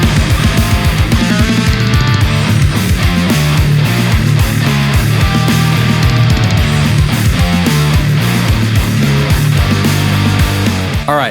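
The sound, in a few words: Metal track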